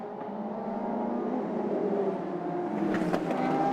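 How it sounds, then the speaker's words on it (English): Historic racing cars at a race circuit accelerate out of a corner onto the main straight, a sustained rising engine drone with layered revving heard from a moderate distance. "Great sound effects from all these cars."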